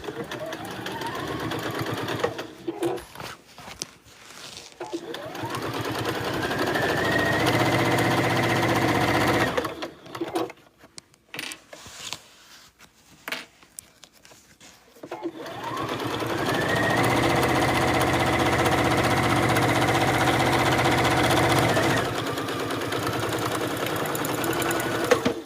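Sewing machine running steady bursts of stitching along a bag seam at a 2.4 stitch length, with back stitching at the start and stop; two long loud runs separated by a quieter pause with handling noises.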